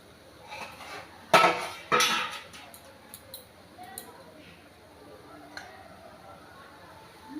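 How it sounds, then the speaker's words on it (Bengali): A metal lid is lifted off a pot of steamed caramel pudding made with eggs and milk on a gas stove, giving two sharp clanks close by, then lighter ticks and clinks that fade. "তো এবার ঢাকনাটা খুলে দেখবো সেদ্ধ হয়েছে কিনা।"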